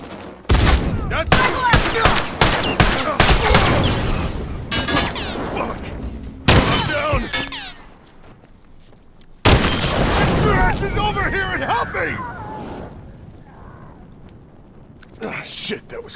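A bomb blast amid heavy gunfire in the video game The Last of Us, with several loud booming bursts and rapid shots over sixteen seconds and a person talking briefly through the chaos.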